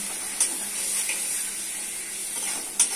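Water goes into a cooking pot holding spiced masala for a chicken and potato curry, a steady splashing hiss with a couple of sharp clinks, close and moderate in level.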